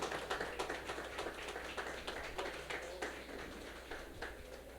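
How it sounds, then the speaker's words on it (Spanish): A church congregation claps for the Lord, a steady patter of many hands heard faintly and at a distance over a low hum. "Dele un aplauso al Señor bien fuerte"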